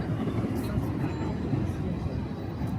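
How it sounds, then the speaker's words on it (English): A UP Express airport train rolls into a Toronto station with a steady, low rumble of wheels and carriages at moderate distance, continuous throughout, with faint background voices. "And we got an Up Express train rolling in."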